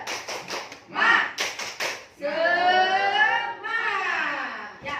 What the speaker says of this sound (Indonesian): Kita ulangi lagi ya. Tepuk semangat.